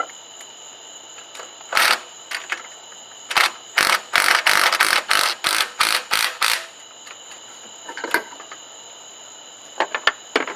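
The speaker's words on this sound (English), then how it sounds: "And then we'll tighten the bottom ones down" Ratchet tightening exhaust manifold bolts on a Jeep Wrangler TJ 4.0, bursts of rapid clicking in close, sharp runs with a dense stretch in the middle, over a faint steady hiss.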